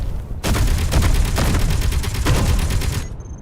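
Sustained rapid gunfire from drone-mounted guns and turrets in Space Engineers, loud and dense, rattling continuously for about two and a half seconds before cutting off abruptly.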